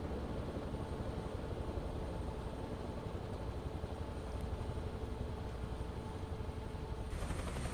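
In Microsoft Flight Simulator 2024, a helicopter flying near Wanaka gives a continuous, dense rotor and engine drone, steady and loud throughout with no talk.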